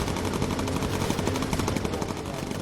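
Aircraft machine guns fire incendiary rounds in the game Bomber Crew, a loud, continuous rapid rattle of automatic gunfire over a dense engine roar, filling the whole stretch without pause.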